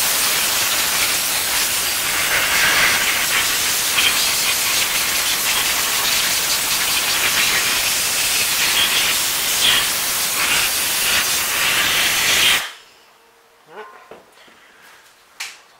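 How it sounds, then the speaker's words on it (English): Compressed air blasting dust out of a Ford Ranger, a loud steady close hiss for about twelve seconds that cuts off abruptly, followed by faint small knocks. "I'm going to go ahead and just blast all this out."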